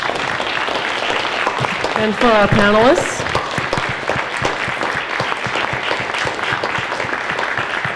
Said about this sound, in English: Let's get another round of applause for PARISOMA for hosting.